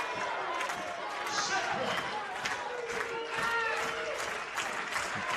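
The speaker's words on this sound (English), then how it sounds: "Buff Nation up on its feet, stomping, clapping" Volleyball crowd at a West Texas A&M vs Texas Woman's match, fans on their feet stomping and clapping in a steady loud roar with shouts, a busy arena din throughout.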